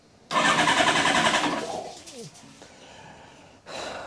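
An engine cranks and catches with a loud, rough, rapidly pulsing whirr that fades within about two seconds. Birds are heard in the quiet that follows, then a second burst of engine noise comes near the end.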